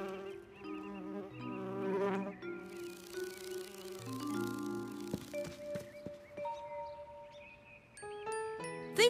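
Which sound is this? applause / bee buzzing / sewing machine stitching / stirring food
bee buzzing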